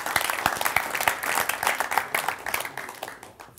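A small indoor audience applauds a guest named Rustam at a stand-up comedy show, with steady clapping throughout that fades a little toward the end.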